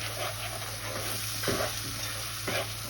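Onion-cashew paste with green chillies frying in a pan for chicken makhani white karahi, a steady close sizzle with a couple of brief stirring scrapes, no talk.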